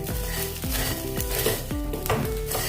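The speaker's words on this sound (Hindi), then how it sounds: "5-7 मिनट इसको भून लीजिए अच्छे से।" Soybean mixture being roasted in a pan, with a loud steady sizzle and repeated scraping strokes of a spatula against the metal every half second or so, close up and with no talking.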